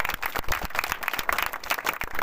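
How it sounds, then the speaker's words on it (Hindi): A small gathering claps for the mother of a girl who won a district athletics medal, a brief burst of scattered, uneven hand claps at close range. "चलिए एक सोनल के मम्मी के लिए एक बार जोरदार ताली।"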